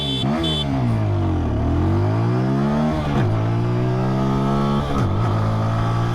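A TVS Apache 200 4V motorcycle in sport mode pulls away hard from first gear, its engine note climbing loudly and steadily, then dipping briefly at each of several quick upshifts before it rises again, close and continuous with no talking.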